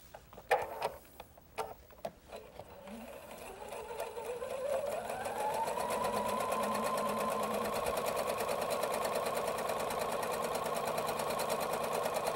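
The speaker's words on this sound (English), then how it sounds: "And then just sew it down to the bottom." A sewing machine stitching a Madeira hem border runs up to speed after a few short starts, then holds a fast, steady mechanical whir with a rapid ticking rhythm, close and alone.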